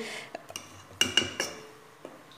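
Flour and cocoa being stirred together in a bowl for a simple Christmas log cake, giving a few quiet, scattered clinks and scrapes of utensil against bowl, with short pauses between them.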